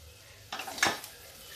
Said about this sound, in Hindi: अब धीरे धीरे करके हम ये सब्जी डालते हैं इसमें। धीरे धीरे इसलिए डाल रहे हैं कि गरम है।